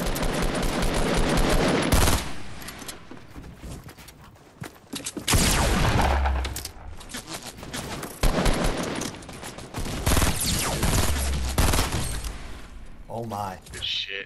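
Video game gunfight with loud bursts of automatic fire and scattered shots across the whole stretch, close and harsh, with people talking over the shooting.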